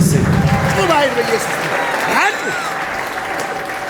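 A church congregation breaks into loud, sustained applause close by, fading gradually, while a preacher's voice carries over the clapping.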